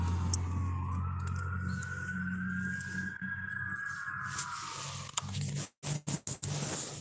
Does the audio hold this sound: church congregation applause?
no